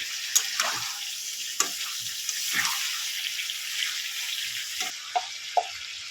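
Two tomatoes frying in a pan for a village-style chicken curry, a soft steady sizzle with occasional clinks and stirring taps, quiet and close with no talking.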